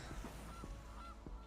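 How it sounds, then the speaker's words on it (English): A goose sound effect in the digital card game MTG Arena gives a few short, faint honks in quick succession over quiet background noise. "I stole their goose."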